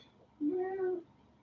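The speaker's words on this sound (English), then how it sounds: "she's meowing again." A single clear cat meow, drawn out for about half a second, close and fairly quiet against a hushed room.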